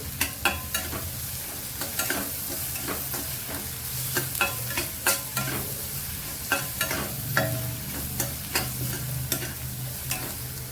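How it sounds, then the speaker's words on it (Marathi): Ginger-garlic paste and green chillies sauté in hot oil for Mumbai pav bhaji, a steady low sizzle broken by repeated sharp scrapes and clacks of a spatula stirring against the pan, fairly close, no voices. "तेलावरती चांगलं परतून घे"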